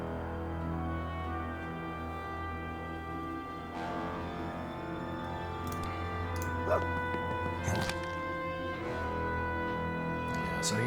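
A dog barks and yips in the video game Tactical Breach Wizards, short scattered calls sitting over a steady humming game soundtrack, fairly quiet and not close.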